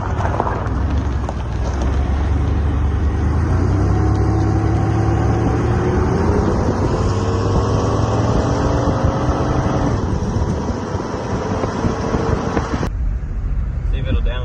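Car with a 4L60 automatic transmission pulling away in drive, a loud steady engine drone with rising and falling gear tones, then a sharp click near the end as the engine note drops away.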